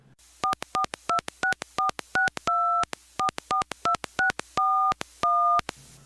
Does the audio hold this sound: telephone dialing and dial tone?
yes